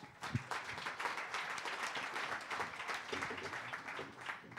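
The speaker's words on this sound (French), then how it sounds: "On peut l'applaudir, Thierry Baglan." A crowd applauds steadily at an awards ceremony, dense clapping continuing throughout without pause, moderately distant.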